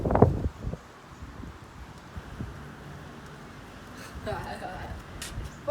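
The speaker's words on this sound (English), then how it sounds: "So yeah, windy as hell." Gusty outdoor wind buffets the microphone with low rumbling bursts during skateboarding, strongest at the start and near the end, with brief voice fragments over it.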